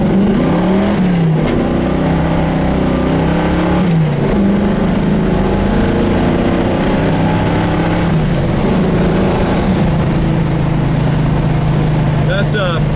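A 1970 Pontiac Firebird engine pulls hard on the road, with a loud, steady drone rising in pitch through several revving climbs and gear changes, plus interior rumble throughout.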